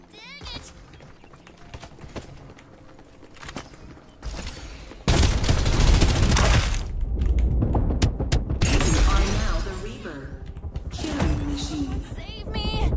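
Gunfire in the battle royale shooter Farlight 84, with scattered distant shots that give way to loud, dense bursts of automatic fire and mechanical clatter, all under a player's talk.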